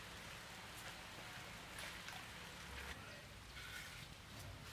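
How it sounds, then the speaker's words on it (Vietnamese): A rain shower falls steadily as a dense, even hiss, with faint scattered patters over it. "Hôm nay mưa rào."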